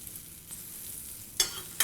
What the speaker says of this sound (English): We like to make noise, we shake the pan.